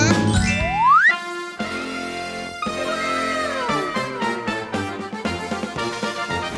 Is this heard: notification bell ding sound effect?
yes